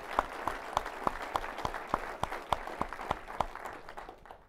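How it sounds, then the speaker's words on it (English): A city audience claps at a State of the City presentation, one distinct nearby clapper keeping a quick, regular beat over softer general applause that begins to fade toward the end. "So please give them a round of applause"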